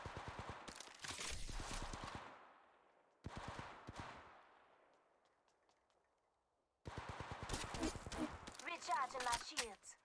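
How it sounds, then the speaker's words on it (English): Rapid bursts of automatic gunfire in Apex Legends Mobile, loud and close, in three volleys separated by decaying echoes and a near-silent gap, with a voice heard in places. "Shooting."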